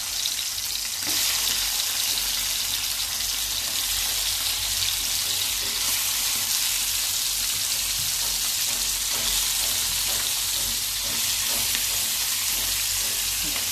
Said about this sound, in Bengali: ছোটো মাছ তো, তাই একটুখানি ভেজে নিচ্ছি সবগুলো দিয়ে